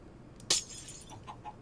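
A glass pane breaks in Minecraft with a single short, bright shatter, a faint tinkle following in an otherwise quiet block-building scene.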